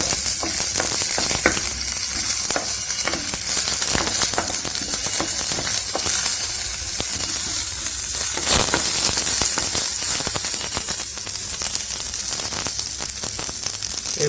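Red amaranth stir-fried with onion and garlic in a pan, a loud continuous sizzle with frequent crackles and spatula scrapes, close and steady with no voices.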